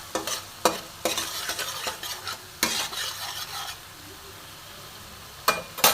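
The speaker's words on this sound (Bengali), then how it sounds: "তো বন্ধুরা, এটাও কষে নেবো ভালো মতন, খুব সুন্দর করে কষে নেবো।" Spices with Kashmiri chili powder are stir-fried in a pan for aloo dum, with loud bursts of spatula scraping over a continuous sizzle, then a quieter sizzling stretch.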